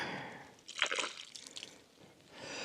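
Water and CLR mixture leaking out of a Scout heater core, heard as close, irregular drips and wet spatters that bunch up briefly then thin out, with no talk.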